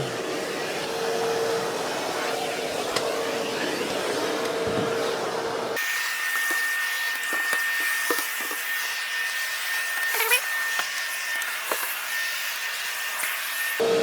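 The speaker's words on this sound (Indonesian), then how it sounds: "Jadi kita harus vakum juga di sini." A household vacuum cleaner runs steadily while cleaning under a table during house cleaning, its motor whine loud and continuous, shifting in tone partway through as the nozzle moves, with no talk.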